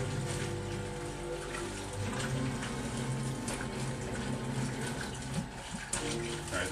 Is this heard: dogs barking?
no